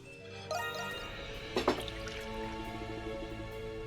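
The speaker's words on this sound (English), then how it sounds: "You knock over your cup. Water spills on the table." A cup of water knocked over on a table in the video game Ys IX: Monstrum Nox gives a soft liquid squish and splash, followed by a few faint drips over quiet background music.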